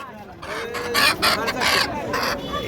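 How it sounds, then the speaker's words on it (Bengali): Chickens and roosters at a large weekly duck, chicken and pigeon market in Elenga, Kalihati, Tangail, clucking in repeated loud bursts against a busy market background. "এগুলো কি সবগুলোই মোরগ?"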